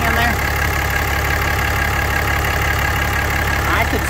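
A 2014 Ram 3500 pickup, its original engine showing 621k miles, idles with a steady, loud low rumble and an even pulse, while a person talks over it.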